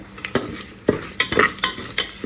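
Lentils frying in hot oil for mango chitranna, a close sizzle broken by sharp scrapes and stirring clinks of a spoon in the pan, irregular and loud.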